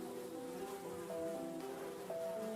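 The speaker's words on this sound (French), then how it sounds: "Les mouches bourdonnaient de plus en plus fort." Flies buzzing in a steady, faint drone with shifting tones that grow slightly louder over a low background hum.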